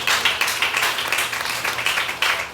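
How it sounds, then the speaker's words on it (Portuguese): A church congregation at a teaching service applauds in a steady, dense wash of clapping that sounds moderately close and fills the space, with no voices standing out. "Você pode aplaudir Jesus por isso?"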